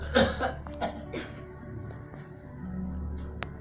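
A person gives two or three short, sharp coughs near the start, followed by quiet room tone.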